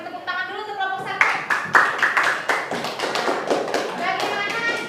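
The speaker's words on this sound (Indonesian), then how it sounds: "Kita beri tepuk tangan dulu untuk kelompok 1" Classroom applause for the first student group: a burst of close hand clapping, uneven and lively, rising then settling into steady claps from several children, with a teacher's voice speaking over the start.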